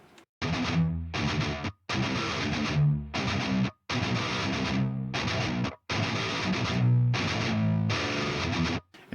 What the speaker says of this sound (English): There's one more layer of palm mutes, and it's this one.